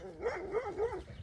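A dog barks and yelps excitedly while chasing a herd of cows in a field, giving a quick run of close, wavering, whiny barks.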